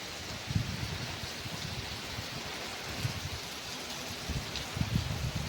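Light rain beginning to fall outdoors under a darkening sky, a soft steady patter with faint gusts of wind, continuous and fairly quiet throughout.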